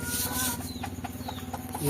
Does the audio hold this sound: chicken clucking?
yes